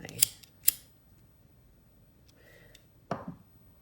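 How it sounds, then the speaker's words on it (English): Jewelry cutters snip beading wire in two sharp, close clicks, followed by faint handling noise and another soft snap near the end, all quiet with no talking. "I'm going to use my cutters. I'm going to cut that."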